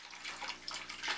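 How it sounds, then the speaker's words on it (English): Water from an algae-infested fish tank drains through a hose into a bucket, a faint steady trickling and splashing that runs on continuously without a break. "see how the water coming out?"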